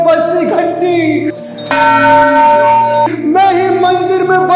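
A temple bell rings with a sharp strike and a long, shimmering decay, sounding over a steady bed of melodic music.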